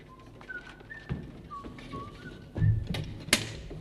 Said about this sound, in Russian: Ну просто свищу и все.